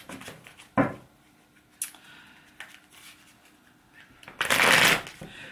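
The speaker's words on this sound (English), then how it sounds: "let's shuffle the deck and let's see which other three cards want to come out" Deck of oracle cards being shuffled, several sharp riffling bursts with a long loud flutter near the end, close and crisp with no talk.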